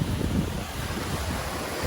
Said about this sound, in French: On a des petites crêtes de vagues de partout.